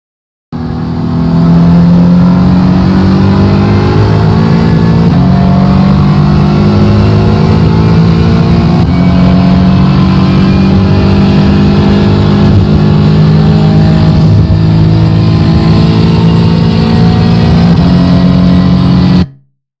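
A race car laps the NJMP circuit at speed, its engine droning loud and steady throughout as the pitch climbs and falls through gear changes, heard close from inside the car.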